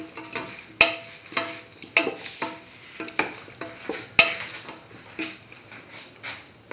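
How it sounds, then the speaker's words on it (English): A potato and broccoli mixture is sautéed and stirred in a pan: a soft sizzle under repeated scraping and clinking strokes of a utensil in a loose rhythm, with a few sharp metallic knocks. "Thoroughly saute mix."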